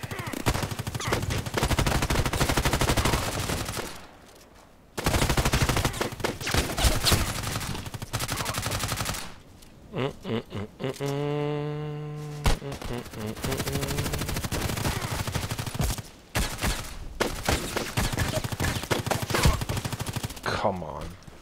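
Gunfire in the video game Contract Wars, rapid bursts of automatic shots in long loud volleys, broken by short pauses and a tonal game sound, with talk in between.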